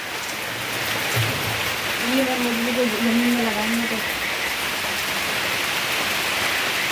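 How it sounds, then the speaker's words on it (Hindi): Heavy rain in Goa pours down in a dense, steady hiss throughout, near bamboo trees; a voice briefly hums or speaks faintly underneath midway. "बारिश तेज हो गई।"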